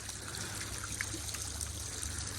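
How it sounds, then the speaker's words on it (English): Water trickles over a small pond waterfall, a steady, close, hissing splash with soft bubbling, continuous and with no voices. "Now with these waterfalls, it's really important to watch the way the water falls."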